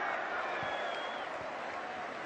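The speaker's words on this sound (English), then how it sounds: "And now the Montenegrins are applauding." A football crowd applauds after a Moldova goal against Montenegro in a 2014 World Cup qualifier, a broad, distant wash of clapping and crowd noise held steady with a commentator talking over it.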